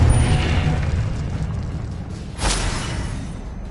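The Confringo blasting spell goes off in Hogwarts Legacy with a deep booming explosion over a rumbling game background, and a second sharp burst lands midway.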